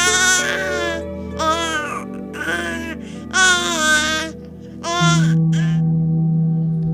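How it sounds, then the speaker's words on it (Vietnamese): A newborn infant cries in bursts of wailing, loud and close, with short pauses between cries over a steady low background hum. "một đứa trẻ đã cất tiếng khóc"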